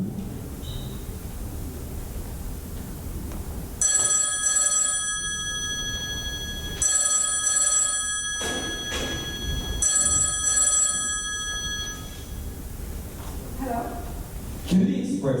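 An old telephone bell rings in three long bursts separated by short pauses, bright and metallic over a low background hiss.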